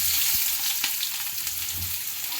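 Onions and garlic crackle and sizzle in hot oil with mustard seeds for an egg roast, a steady broadband fry close by with a few soft low knocks from the pan, no voices.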